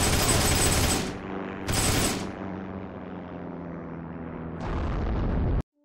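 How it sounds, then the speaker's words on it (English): Long bursts of machine-gun fire from an SdKfz 222 armored car in a video game, loud and dense, with two heavy volleys early, a quieter tail, then another burst that cuts off abruptly. "Switching to the machine gun, got a nice long open field of view there."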